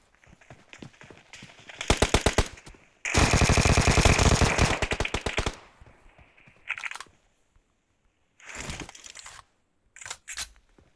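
Automatic gunfire in PUBG Mobile crackles in rapid bursts, one long sustained stretch of fast shots plus shorter volleys before and after, loud and close with quiet gaps between.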